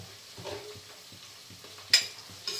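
Chicken fry with chilli powder and turmeric sizzles gently in a pan, a low steady frying hiss broken by a couple of sharper scrapes of a stirring spoon, close by and with no voices.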